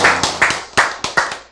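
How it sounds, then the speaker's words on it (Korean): Church congregation clapping hands in a quick run of about six sharp, loud claps; no talk. "박수."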